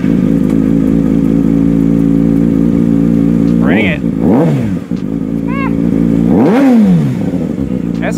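A motorcycle engine with its exhaust silencer removed starts, idles loudly, then is revved in several sharp bursts that rise and fall. A person says a few words near the end.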